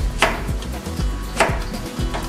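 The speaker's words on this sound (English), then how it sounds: "basically just cut them into slices" Knife slicing carrots on a cutting board, a few crisp chopping thuds spaced about a second apart with a steady background hum, no talking.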